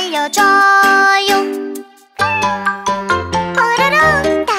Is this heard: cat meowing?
yes